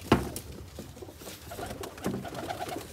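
A few pigeons on a farm give soft, low coos that are faint and close, with light rustling in between.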